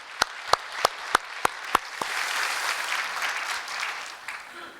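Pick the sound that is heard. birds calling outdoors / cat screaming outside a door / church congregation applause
church congregation applause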